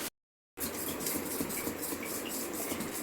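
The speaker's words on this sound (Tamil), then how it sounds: "மாவு நல்லா கலக்கி எடுத்துட்டேன்" Dosa batter being stirred in a bowl, a steady scraping and clinking of a utensil against the vessel that runs continuously and close up after a brief silent gap at the start.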